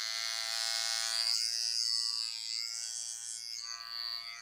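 A new electric hair trimmer runs close by with a steady high buzz, its tone shifting slightly partway through before it settles again.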